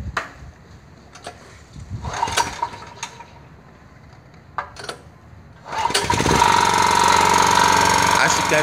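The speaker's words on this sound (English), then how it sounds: "So now we want to turn on the generator. Turn on the gas, remember, and the fuel tank is off." Scattered clicks and knocks are followed by a petrol generator converted to run on cooking gas starting up and settling into a loud, steady running drone.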